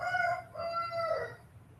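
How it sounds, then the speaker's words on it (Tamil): A rooster crows outdoors, a single drawn-out cock-a-doodle-doo heard at moderate distance and fairly faint, fading at the end over a low background murmur. "ஆமா, வீட்டுக்குள்ளே வந்துருச்சா சேவல்?"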